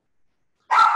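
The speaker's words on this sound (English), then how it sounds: "that was my dog" A single abrupt dog bark bursts out after near silence, loud and close, cut off at the end.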